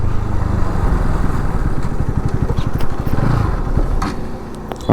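Bajaj Pulsar NS200 motorcycle engine running rough and sputtering steadily, then dying as its petrol runs dry, with a brief louder burst at the very end.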